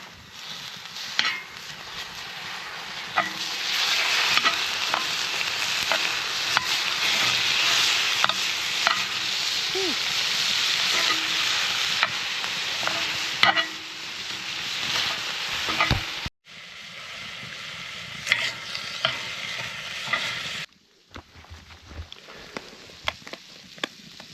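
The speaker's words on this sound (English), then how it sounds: "Hear the nice sizzle of the meat." Meat sizzles steadily in a pan over a campfire at a truck campsite, a continuous close frying hiss with occasional stirring and scraping, no talk, briefly cut off near the end.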